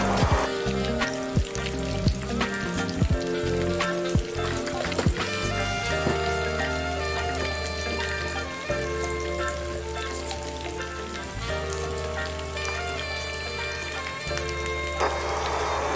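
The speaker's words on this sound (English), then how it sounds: "Allow the onions to cook for some seconds" Onions frying in hot oil for a Nigerian fio-fio and yam dish, a steady close sizzle and crackle running throughout, with louder music playing over it and occasional clinks.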